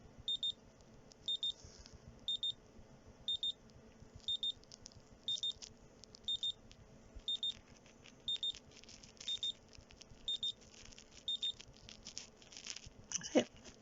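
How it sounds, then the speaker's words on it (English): A Citizen Eco-Drive wristwatch alarm, quiet and close, sounding bursts of rapid high electronic beeps at a steady rhythm about once a second for around twelve seconds, then a brief fumbling rustle. "there's the EcoDrive's alarm"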